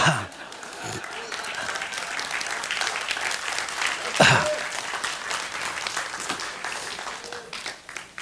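Audience applause fills a May 18 Gwangju commemoration poetry recitation, a steady dense wash of clapping from a crowd lasting throughout, with a brief louder swell midway.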